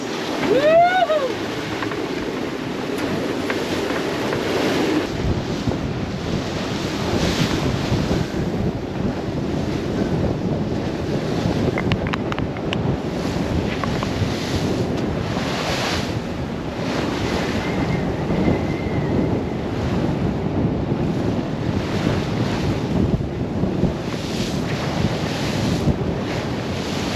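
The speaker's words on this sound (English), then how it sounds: "Big waves!" Large ocean waves around a small sailboat crossing solo from Tonga to New Zealand, a steady rushing wash of surf with heavy wind buffeting the microphone throughout; a brief voice is heard early on.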